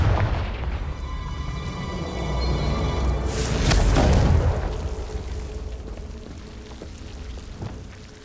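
A Confringo fire spell blast in Hogwarts Legacy swells into one big rumbling boom a few seconds in, then slowly fades into a lingering low roar, with no talking.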